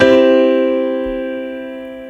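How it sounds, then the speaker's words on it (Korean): A sustained tonic chord rings out clearly, a single bright harmonic chord with a clean attack that slowly decays over about two seconds. "1도 화음의 이름은 으뜸 화음이라고 해요"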